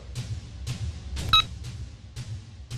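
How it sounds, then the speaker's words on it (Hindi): Steady, evenly spaced phone dialing beeps, about five of them, heard close over a low background hum, with one brighter tonal blip in the middle. "इस फोन से तू उस लड़की के भाई को फोन लगा।"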